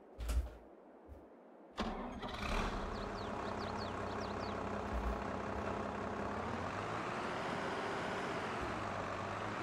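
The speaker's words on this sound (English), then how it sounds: "So we can hear the engine here" A small tractor engine in Farming Simulator 22 cranks with a couple of short bursts, then fires up and settles into a steady, close idle drone.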